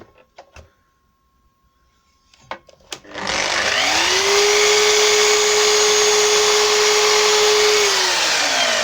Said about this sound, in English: All I'm going to do is push this up against the blade and it'll cut just a fraction off.